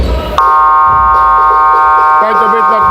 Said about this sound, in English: Try to beat that buzzer.